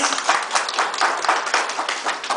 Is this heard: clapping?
yes